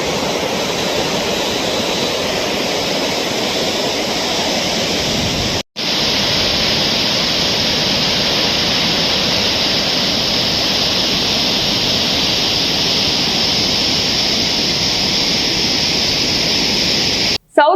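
Flood water rushing out through ten open gates of the Srisailam dam, a loud, dense, steady roar of torrent with two brief cut-outs, heard alone without voices.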